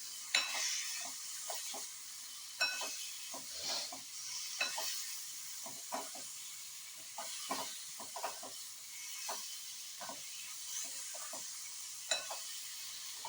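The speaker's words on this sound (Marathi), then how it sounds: "किंचितशी वेलदोड्याची पूड घालायची आहे. चांगलं हलवून घ्यायचं आहे." A sweet potato sweet dish with a pinch of cardamom powder is stirred in a pan, giving a steady run of close scraping, soft sizzle and spoon knocks throughout, with no voices.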